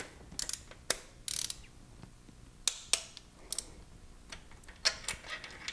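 An ANPUDS torque wrench ratchets as it tightens spark plugs on an engine, heard as several short, sharp bursts of clicking close by, spaced out with quiet pauses in between.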